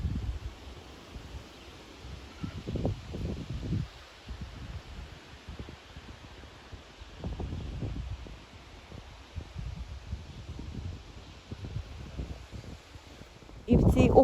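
Gusty wind rumbles against the microphone in low bursts and rustles, coming and going over a long stretch with a louder gust at the end.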